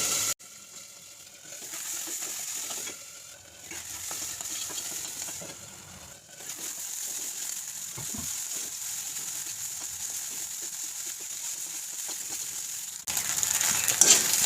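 Hot oil crackles and sizzles steadily around yardlong beans frying in a covered pan, a continuous close hiss with small gaps and a louder burst at the end.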